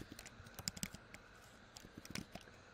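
Fingers type on a computer keyboard, a quick irregular run of light, close clicks and taps at low volume.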